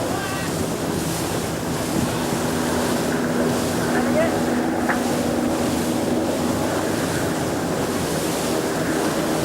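An 18-foot skiff racing through waves, heard from on board: a continuous rush of wind buffeting the microphone and water hissing and slapping against the hull, loud and unbroken.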